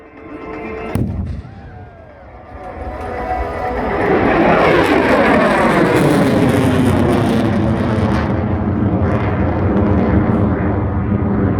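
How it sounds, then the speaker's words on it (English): A loud RAAF F-35A Lightning II jet engine roars in full afterburner after a sharp bang, building to a sustained, rumbling thunder as the aircraft climbs away at an airshow. "he'll pull up, go into full afterburner, and climb right out of here"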